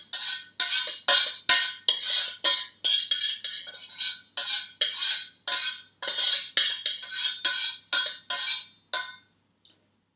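Metal spoon stirring a gluten-free vegan paleo granola mixture in a bowl, a close, steady run of scraping clinks and rasps in quick strokes, with brief pauses between and no talking.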